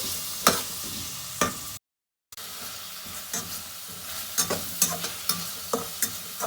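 Vegetables stir-fry with salt and soy sauce for Singaporean rice, making a steady close sizzle with repeated sharp scrapes and taps of the spatula. The sound drops out entirely for about half a second midway.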